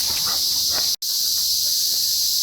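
Cicadas drone in a loud, continuous high-pitched buzz nearby, a single unbroken wall of insect noise with one brief cut-out and no talk.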